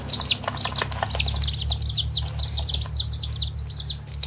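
Several young chicks, a Barred Rock among them, peep in quick, high, bright chirps that repeat steadily and close by. The birds are kept indoors in a fish tank under a heat lamp.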